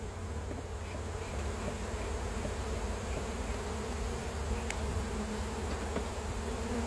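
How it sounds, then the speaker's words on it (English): Honey bees swarm around an open hive, a dense continuous buzz at moderate level with no voices over it. "That's a lot of bees."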